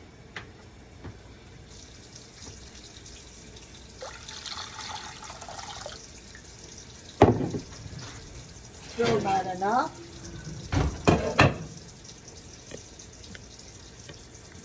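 Tap water runs into a pot of stuffed Sicilian artichokes in a few bursts of pouring and splashing, close and fairly loud. Someone speaks briefly between them.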